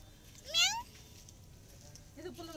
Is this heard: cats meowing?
yes